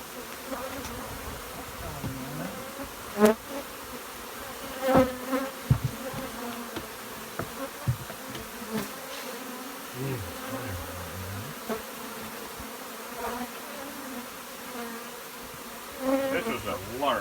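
Bees buzz steadily around a large hive of guard bees, a constant close drone with individual insects swelling louder as they fly past the microphone over seventeen seconds.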